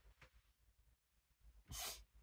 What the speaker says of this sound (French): attention, je vais éternuer.